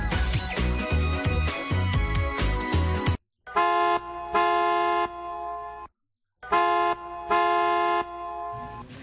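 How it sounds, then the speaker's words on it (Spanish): Car horns honk in traffic in Lima: a busy opening of mixed honks, then three long blaring horn blasts, loud and near, separated by brief silences. "si yo estoy cerca de ese claxon probablemente me deje un poquito sorda"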